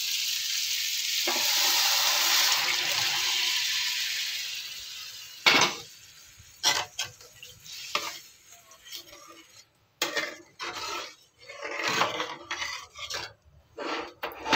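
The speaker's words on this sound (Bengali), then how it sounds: "এবার আমি ডালটা এর মধ্যে ঢেলে দেবো।" Boiled dal pours into a pan of fried vegetables, a sizzling rush at first that gives way to intermittent clinks and scrapes of a utensil against the pan, with quieter gaps between.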